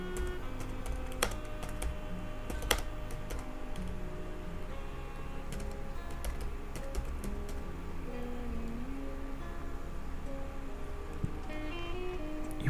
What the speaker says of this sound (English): type the subject, this is my first email, type the main message